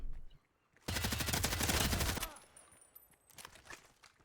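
Rapid automatic gunfire from the video game Hired Ops, a loud sustained burst of about a second and a half, then quieter scattered shots and game sounds.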